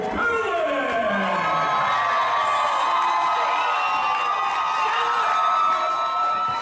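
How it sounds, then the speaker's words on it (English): A lively crowd cheers and whoops steadily for Premier Champion Andrew Palace, a 202-pound wrestler from Youngstown, Pennsylvania, at a Premier wrestling event. The roar stays loud and sustained throughout, with scattered shouts rising above it. "Crowd is firmly behind Andrew Palace at this point in time"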